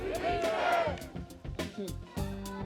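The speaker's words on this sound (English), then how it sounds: "shouted the Tibetan slogan "Victory to Tibet," which was echoed by the crowd" Crowd at a Tibetan rally march in Berlin shouting the slogan "Victory to Tibet" together, loud chanted voices rising and falling in several bursts, close and energetic.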